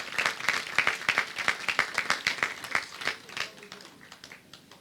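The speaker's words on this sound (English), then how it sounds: "Let's give her a round of applause" Applause at a county Veterans Day celebration for an award recipient, a modest crowd's clapping, fairly close and distinct at first, then thinning and fading out.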